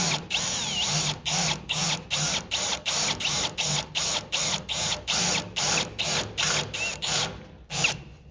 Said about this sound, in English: when you drill out enough of them, you'll kind of get a feel of right before your pilot bit goes through